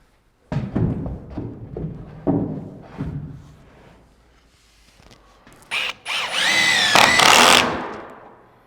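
A power drill fastens staircase lumber to garage walls: a few knocks and thuds of handling, then two short, loud whirring bursts close by as the drill drives in.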